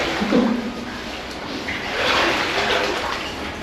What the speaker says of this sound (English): we can hear water up here